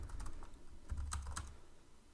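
Someone types HTML code on a computer keyboard, producing a quick cluster of close, light key clicks with a few sharper taps in the middle, over a low background hum and with no speech.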